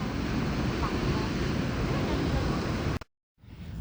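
Ocean surf rolls steadily along the Portuguese coast, a loud continuous wash of breaking waves mixed with wind noise on the microphone, cutting off abruptly near the end before resuming.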